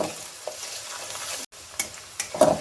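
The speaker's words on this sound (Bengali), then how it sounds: "দু তিন মিনিট ধরে পেঁয়াজটাকে আমি মিডিয়াম ফ্লেমে দিয়ে হালকা ভেজে নেব।" Onion frying lightly in a pan over a medium flame for a Bengali-style tengra fish curry, a soft steady sizzle with a few scraping stirs, close and alone, with a brief dropout midway.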